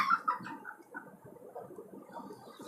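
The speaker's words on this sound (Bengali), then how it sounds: "মুরগিটা কালো মুরগিটাকে মেরে মাথা টাথা ফুলাই ফেলছে রক্ত বের করে ফেলছে" Caged native chickens cluck and squawk in short, agitated bursts at close range while one hen attacks another, the calls tumbling over one another without pause.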